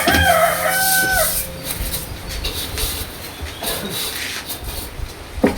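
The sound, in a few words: rooster crowing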